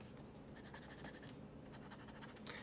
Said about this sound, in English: And all this writing, before I forget, is being done with this Midori paper